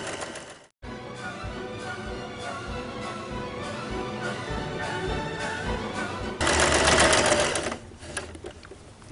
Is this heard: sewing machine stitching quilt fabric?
yes